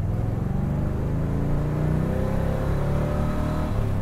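A rare 1966 Chevrolet Corvette with a 427 engine runs steadily after months of sitting on a lift, a loud, close, continuous deep rumble with slight rises in revs and no talking.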